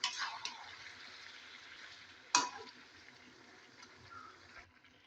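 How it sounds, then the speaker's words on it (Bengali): Water is added to a pot of chicken curry being cooked down with garam masala, giving a short splash and rush, then a quieter gurgling sizzle fading away. "মাংসটা ম্যারিনেট করেছিলাম ওটা ধুয়ে জলটা দিয়ে দিচ্ছি"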